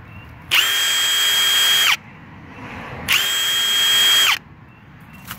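Ridgid Octane 1/2-inch impact wrench running on a 4-amp-hour battery, two loud, steady whining bursts of about one and a half seconds each, separated by a short pause, with no talking.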